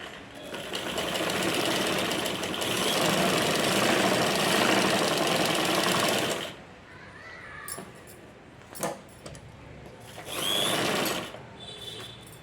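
A sewing machine stitches the sides of a blouse lining, running in a steady continuous whir for several seconds, then stopping, with short bursts and a brief final run of stitching.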